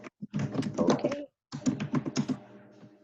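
Quick, uneven keystrokes clatter on a computer keyboard close by, with a short pause midway before the typing resumes.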